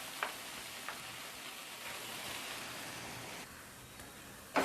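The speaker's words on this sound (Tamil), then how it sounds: "இது நல்லா மிக்ஸ் பண்ணிவிட்டு நல்லா கொஞ்சம் வதங்கட்டும்" Onions and tomato sautéing in oil for a mushroom gravy give a faint, even sizzle throughout, with a few soft clicks of a stirring utensil and a louder knock at the end.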